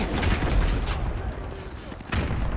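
Gunfire in the Modern Warfare 2 video game, dense broadband bursts of shots with a booming low rumble throughout, loud and continuous with a brief lull before another burst.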